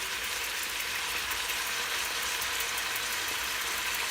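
Vegetables sauté with thyme in an Instant Pot for short ribs, giving a steady, close broadband sizzle that holds level throughout, alone and without talk.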